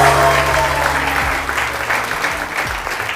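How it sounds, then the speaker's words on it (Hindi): Studio audience on a Pakistani TV morning show applauds for Madiha Zaidi, a loud, dense wash of clapping that holds steady across the whole stretch, with faint tonal music beneath. "बहुत सारी तालियां मदीहा ज़ैदी के लिए"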